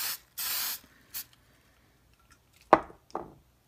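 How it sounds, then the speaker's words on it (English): Hairspray blasted from an aerosol can onto a model railway scenery form, two short hissing bursts followed by a brief third spray, then light knocks and taps nearby, close and clear without talk. "coat it with hairspray"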